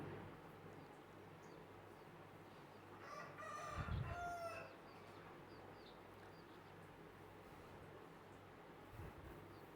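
A rooster crows once at moderate distance amid quiet outdoor ambience, with faint hen clucks around it as chickens are fed.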